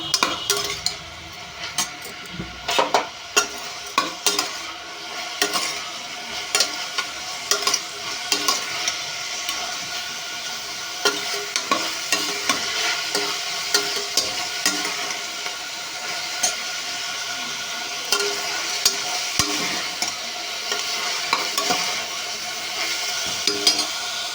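Onions fry in oil in a pan while a utensil stirs and scrapes through them, a steady close sizzle broken by frequent clinks and knocks of metal on the pan.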